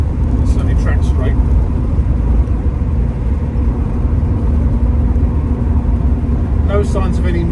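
A 1971 Mercedes-Benz W108 280S automatic drives along with a steady, continuous low engine and road rumble throughout, close and fairly loud, with a voice talking briefly near the start and end.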